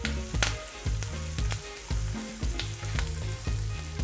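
Whole crushed garlic cloves hit hot oil in a pan for a shark suraputtu dish, producing a lively sizzle with crackling bursts over soft background music, with no one speaking.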